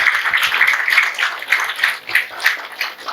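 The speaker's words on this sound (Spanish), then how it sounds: "Un aplauso para él" Audience applause at a book launch event, a crowd clapping with a lively, uneven rhythm of sharp claps rising and falling in waves, fairly loud and close.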